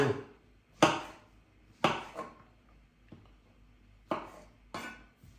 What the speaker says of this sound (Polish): I pieczarek nie kroję jakoś specjalnie drobno.